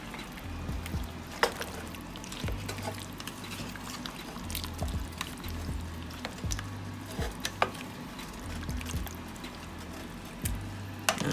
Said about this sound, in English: Now that we have everything together, just go ahead and mix it up.